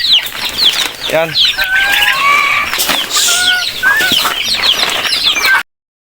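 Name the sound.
chickens clucking and flapping at feeding time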